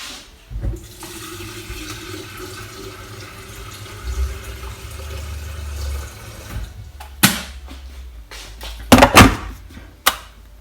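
Water gushes from a kitchen tap into a kettle with a steady rushing hiss, followed by a few sharp knocks and clatters as the tap shuts and the kettle is set down.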